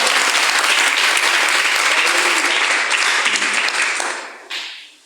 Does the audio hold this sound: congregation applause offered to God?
yes